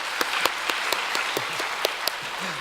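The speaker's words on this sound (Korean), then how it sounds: "국군 장병들을 위해 감사와 격려의 박수" A church congregation applauds in a steady, distant-sounding wash of clapping, with a few sharper individual claps standing out.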